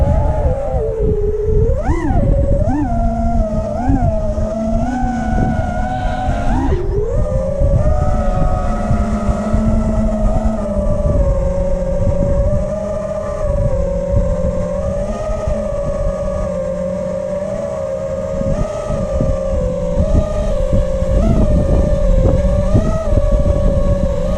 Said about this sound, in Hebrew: מנועים מסתובבים גם באפס מצרת